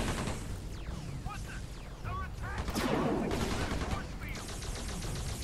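Dense gunfire and explosive bursts from the video game Earth Defense Force: Insect Armageddon, loud and continuous through the whole stretch, with a voice talking faintly beneath the battle noise.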